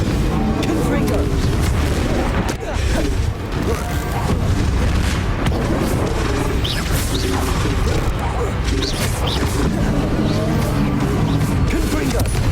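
Fiery Confringo spell blasts from the Hogwarts Legacy video game, a dense run of booming explosive impacts and crashes over a loud, continuous battle din, with a voice calling out spells.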